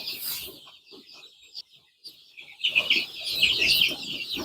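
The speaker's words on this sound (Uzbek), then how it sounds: "Xudo xolasa mana jo'jalarimiz boqyapmiz qadrdonlar" A crowd of Andijan chicks being raised at home on a farm peeps continuously, loud at first, thinning to scattered cheeps, then swelling into a dense close chorus.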